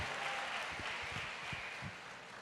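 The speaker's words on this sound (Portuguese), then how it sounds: "Dá uma forte salva de palmas para esses talentosos irmãos que sabem fazer pão" Applause from a church congregation during a sermon, a steady wash of many hands clapping at moderate distance with no talk over it.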